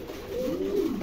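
Pigeons in a loft of Mundian and Andalusian breeds, some sitting on eggs, give one soft, low, rolling coo. It is close and clear over a faint steady background hum.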